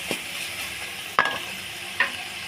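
Minced keema fries with spices in a pan, making a steady low sizzle with two sharp spoon clanks against the pan.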